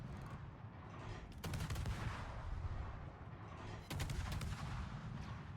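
Naval guns fire from ships in a video game, heavy booming salvos and rapid overlapping shots in a dense, continuous barrage with no talk.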